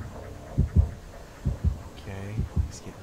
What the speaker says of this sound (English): You hear that heartbeat? That means the killer is nearby.